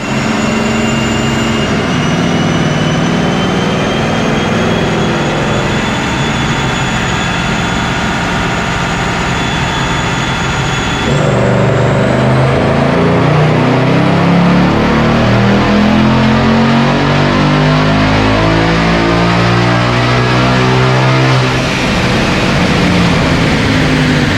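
A 2019 Ford Mustang GT with a Procharger P1X stage 2 supercharger roars loud and continuous on a dyno, its pitch climbing and the supercharger whine rising through a long full pull.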